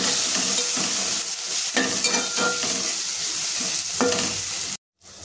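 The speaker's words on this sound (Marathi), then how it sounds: "हे मसाले आपल्याला छान फ्राय करून घ्यायचे" Spices with coriander powder sizzle and crackle steadily in a hot pan for egg masala, with a few scraping stirs, then the sound cuts off abruptly near the end.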